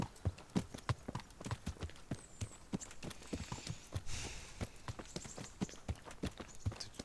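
Horse hooves clip-clopping at a steady walking pace in the medieval game Kingdom Come: Deliverance, close and regular, with a brief rise of ambient noise midway and no talk.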